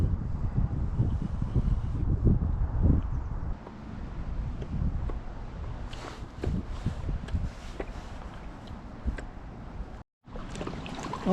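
Motorboats pass back and forth on open water near Pärnu during a fishing outing, with engine hum and wave slaps mixed with gusty wind buffeting the microphone, varying from near to farther off.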